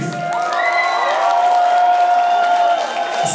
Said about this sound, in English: So guys, please applaud to the beautiful Russian ladies!